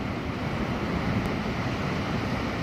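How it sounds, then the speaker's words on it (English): Sea waves break along the granite coast at Land's End in Cornwall, a continuous broad roar of surf mixed with wind buffeting the microphone. "Look at the waves."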